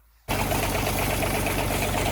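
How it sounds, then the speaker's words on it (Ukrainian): A tractor engine suddenly starts after a brief silence and settles into a steady, loud, low rumbling idle with a constant mechanical vibration. "Дивіться, зараз запускаємо трактор."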